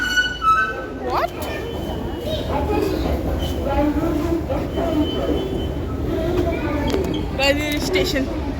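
A train moves through a busy railway station in Borivali, with rumbling wheels and occasional squeals under steady crowd noise and nearby chatter.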